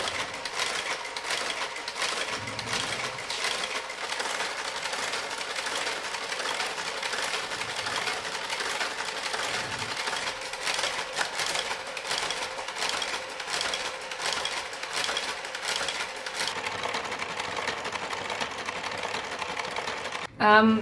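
Garter carriage on a Taitexma knitting machine running with a continuous rapid mechanical clatter and whir, close and steady, with a voice speaking faintly over it.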